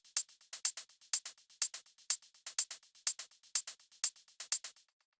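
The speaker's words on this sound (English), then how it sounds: "So the next thing I have here is these hi-hats, which sound like this." A layered hi-hat pattern from a minimal techno track ticks in a quick, even groove, crisp bright hits with alternating accents repeating steadily for about five seconds, alone with no voice.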